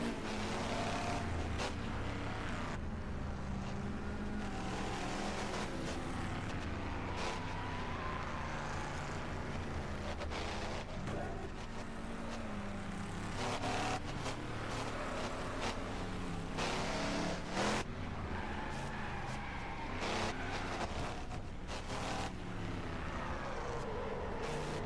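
Race car engine in a video game lap, droning steadily at close range with shifting pitch as the car crosses the start-finish line on a rough track, mixed with dense in-game noise and no talk.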